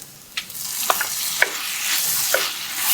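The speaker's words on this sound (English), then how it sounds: "I'm going to add a generous squeeze of the sauce into the pan. We're going to use the acid from the tomatoes to deglaze the pan." Green Goddess sauce and tomatoes hitting a hot pan of garlic chicken to deglaze it, a loud, bright sizzle with a few spoon scrapes and taps against the pan.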